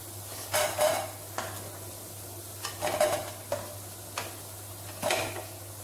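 Green gram pakoda fry in oil with a low, steady sizzle under a constant hum, while a utensil turns them in several brief scraping, clinking bursts spaced a second or so apart, close by and without talk.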